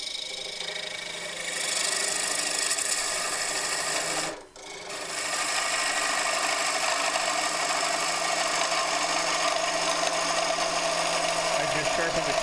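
A freshly sharpened bowl gouge hollows a jackfruit wood bowl blank on a lathe, giving a continuous close, rasping cutting whir that briefly drops out mid-way, then resumes steadily.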